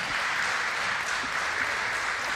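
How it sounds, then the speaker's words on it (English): Crowd at an NVA Cup all-star volleyball match cheers and applauds after an ace, a dense steady roar of clapping and shouting that holds loud and unbroken throughout. "And the crowd goes wild"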